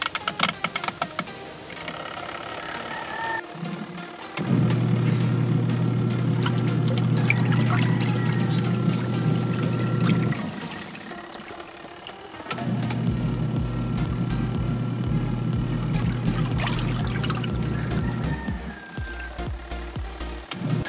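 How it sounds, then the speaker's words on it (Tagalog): Water swirls in the tub of a Camel Kusotmatic 10 kg washing machine, driven by its motor: two long runs of steady motor hum and churning water, about six seconds each, separated by a short lull. "paikutin ito para mas makita nyo po ang whirl ng water from the motor"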